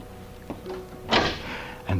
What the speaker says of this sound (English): And then the sitting room door opened.